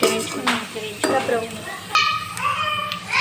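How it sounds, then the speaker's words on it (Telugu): Pulao ingredients fry and get stirred in a pan until browned, a close sizzle broken by spoon scrapes, with voices audible in the background. "బిర్యానీకి ఎలా వేయించుకుంటామో అలా అయితే వేయించుకోవాలండి, బ్రౌన్ కలర్ వచ్చే వరకు"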